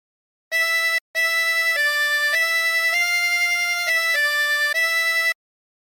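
A harmonica plays a short melodic phrase of several sustained notes, clean and alone, with one brief gap near the start.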